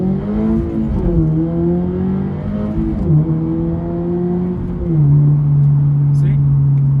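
A 2022 Subaru BRZ with a 2.4L engine and 6-speed manual accelerates from inside the cabin, engine note climbing then dropping at each gear change, loud and continuous with no talking.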